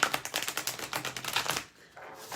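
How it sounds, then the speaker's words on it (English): Large, oversized tarot cards shuffled clumsily by hand, a fast run of dense papery riffles and slaps for about a second and a half before quieting to a softer rustle. "Pardon me while I shuffle them very,"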